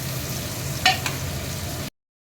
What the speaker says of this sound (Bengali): এর মধ্যে পেঁয়াজ আদা রসুন প্রথমে ভাজবো।